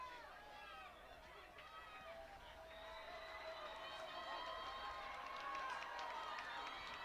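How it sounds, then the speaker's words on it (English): Crowds at a high school Level 3 football playoff game, Amherst against Mayville, make a distant, rising roar of cheering and chatter that swells toward the end, heard faintly behind a public address voice. "Both crowds making themselves heard"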